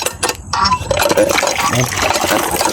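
A newly bought water pump gushes a strong, steady flow of water, a continuous splashing rush heard close up under someone talking.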